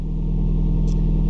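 A car engine idles steadily just after start-up, a continuous mid-pitched hum with an even pulsing rhythm held close and loud throughout, with a brief faint hiss partway through.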